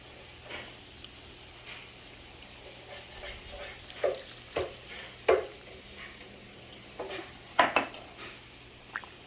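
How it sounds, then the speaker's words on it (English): Potatoes are mashed with melted butter in a pot for an Easter dinner, heard as soft squelching and scraping with a few sharper clinks of utensil against the pot, fairly quiet and close, with no talking. "I'll just continue mashing these up, and then my potatoes are done"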